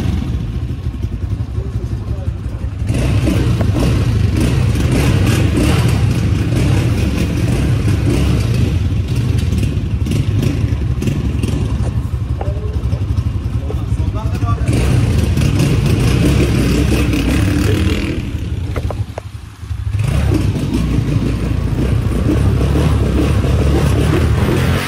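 A 170 cc CG motorcycle ridden on the road in İzmir with a passenger aboard, its engine droning steadily and loudly close by under wind rush, with a brief dip near the end; people talk over it at times.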